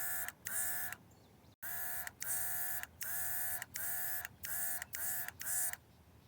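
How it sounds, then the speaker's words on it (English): A paint sprayer coats a fishing lure in about eight short, close bursts, each a bright, whining, motor-like spray separated by brief pauses. "Oh wow, that sprays so much better."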